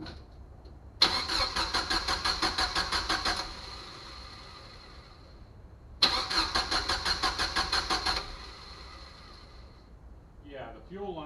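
An old Jeep engine being cranked twice, each attempt a rapid rhythmic starter whirr lasting about two seconds, close and loud, then a brief rough run with a faint voice at the end.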